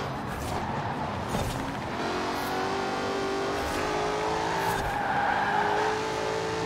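A race car in Forza Horizon 4 brakes hard with a continuous tire squeal and skid over a droning engine, sustained and fairly loud for several seconds.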